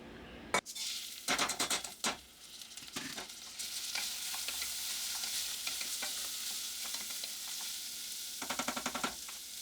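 A cup of rinsed rice toasts in bacon grease in a pan, with a steady frying hiss broken by repeated scraping and stirring strokes near the start and again at the end, and no talking.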